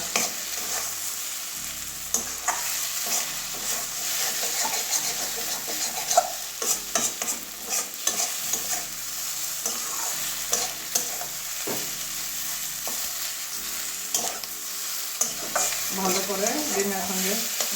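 Eggs stir-fried with pointed gourd (potol) sizzle steadily in a pan, with frequent scraping and stirring knocks from the spatula over the continuous close frying hiss.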